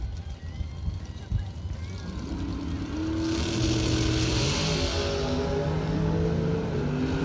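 Ford Mustangs accelerating down a drag strip at a Christmas bracket race, engines building from a steady rumble into a loud, rising roar as a commentator talks over them.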